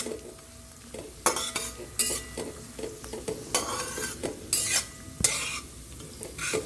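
Steady pan-frying for pumpkin halwa, with sunflower seeds added last, as a spoon stirs and scrapes the pan in repeated loud strokes over a constant close sizzle; nobody speaks.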